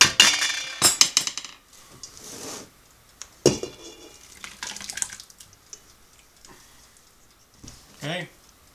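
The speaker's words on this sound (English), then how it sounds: "now we're going to add our wet ingredients to our dry ingredients." Wet ingredients are poured into dry ingredients for homemade breakfast bars, with scattered clinks, splashy pours and rustling in short bursts up close, and a voice briefly heard.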